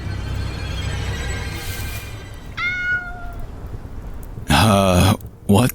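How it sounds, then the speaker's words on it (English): A small kitten meows during a rainy camping scene, a thin rising cry followed by two louder, drawn-out meows close by, over a steady hiss of rain on the tent. "It's a little kitty."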